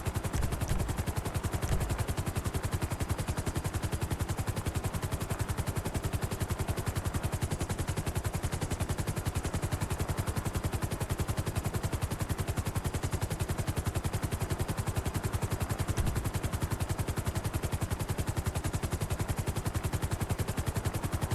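Hovering helicopter in a roleplay video game, a steady loud rotor thump with dense broadband engine roar that holds unchanged throughout, no voices.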